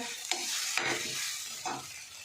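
Roasted eggplant being stirred and sautéed for bharit in a pan on the stove, a steady close sizzle broken by a few scraping strokes of the spoon, with no talking.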